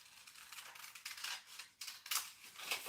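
Scissors snip through craft material for a handmade design, a run of crisp, close cutting strokes with irregular spacing and no talking.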